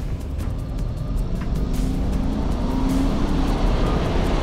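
Supercharged V8 of a 2020 Nissan Patrol pulls hard from 0 to 100 km/h, a loud, steady low engine roar with rising tone, heard from inside the vehicle and no talk over it.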